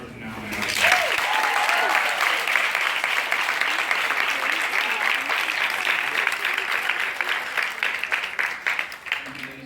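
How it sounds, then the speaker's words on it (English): A crowd at a book talk with actor Kunal Nayyar breaks into loud, sustained applause that swells quickly and holds for nearly ten seconds, thinning into scattered individual claps at the end. "One more round of applause for Kunal Nayyar."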